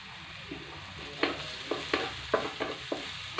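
Onion and garlic soften in a pan over a soft, close sizzle, broken by several quick scraping stirs in an uneven rhythm.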